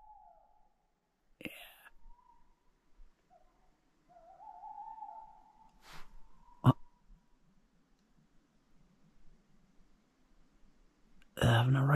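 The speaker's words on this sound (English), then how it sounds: "we're just sitting listening to the owls" Faint owl hoots drift through a quiet night in a forest, a few sustained calls spaced apart, with soft whispering and a couple of sharp knocks nearby.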